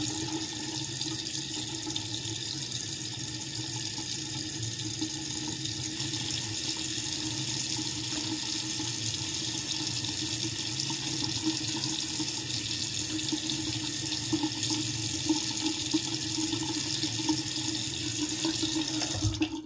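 A sink tap runs steadily as a rag is wetted under it for wiping off face cleanser, an even, close rushing of water throughout with no talk.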